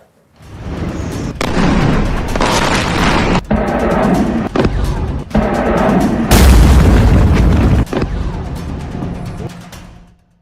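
Bombs exploding over Iranian cities near Hormuz: a long run of heavy booms and blasts, loud and dense, with sharp cracks punctuating a rumbling roar that surges near the end before fading.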